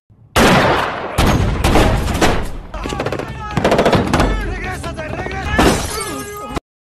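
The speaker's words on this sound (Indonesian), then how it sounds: "Baku tembak di antara mereka pun tak terhindarkan." Gunfire from a shootout in the film Miami Vice: dense bursts of automatic and single shots, loud and close, overlapping with breaking impacts and brief shouts, then cutting off abruptly.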